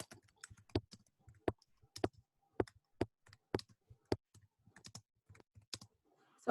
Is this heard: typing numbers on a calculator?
yes